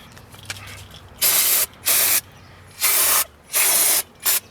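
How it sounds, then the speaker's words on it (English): Brake cleaner sprayed onto brake parts during a Chevy Malibu brake pad job, heard as five loud, close hissing bursts of about half a second each, separated by brief pauses over a low background hum. "So now you're going to see me spray this brake cleaner"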